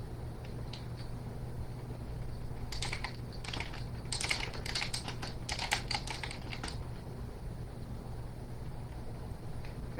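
Fingers type on a computer keyboard in a quiet room, starting with a few light taps and building into a dense burst of clicks before trailing off, close and fairly soft with no talking.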